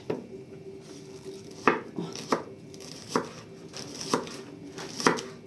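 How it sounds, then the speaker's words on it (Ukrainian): An onion is being chopped with a knife on a board while making a salad with Chinese cabbage: a series of sharp, close knife strikes arrives every second or so, each distinct and moderately loud, with no talking. "А я зараз ще цю цибульку доріжу, тоді включуся."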